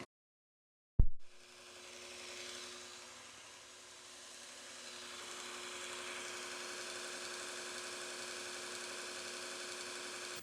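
A belt grinder switches on with a sharp click and spins up into a steady, even mechanical whine and hum while a knife blade is ground near its bolster, the tone holding constant and close.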